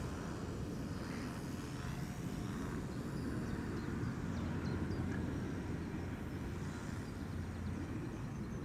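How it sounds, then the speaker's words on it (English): A Toronto-bound KLM Boeing 787 Dreamliner begins its takeoff on runway 24 at Amsterdam Schiphol, a low, continuous engine rumble heard from a distance, without talk. "Dreamliner is now lined up and ready to go."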